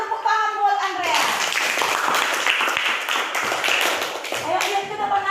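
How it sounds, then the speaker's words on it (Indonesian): Classroom clapping for a student who answered a question, a burst of children's hands clapping together at close range, with kids' voices audible at the start and end. "Pintar, tepuk tangan buat Andreas."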